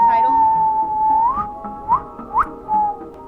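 Someone whistles a short tune with a long sustained note sliding upward, then three quick rising chirps and a final held tone, clear and close with faint background murmur.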